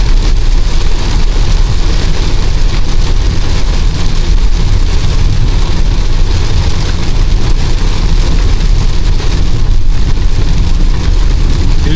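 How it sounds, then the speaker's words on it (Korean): Hail mixed with heavy rain drums steadily and densely on the roof of a Renault Grand Koleos 2.0 gasoline four-wheel-drive Alpine while it drives at highway speed, a continuous close clatter over low road rumble with no talk. "우박이야 우박."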